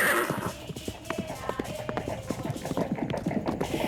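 Hooves of racing horses pound rapidly on the ground in a dense, irregular clatter of quick thuds, fairly close and continuous over a faint murmur of background noise.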